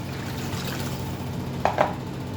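Meat broth being poured into a pot of okra, heard as a brief, soft splash of liquid near the end over a steady background hiss.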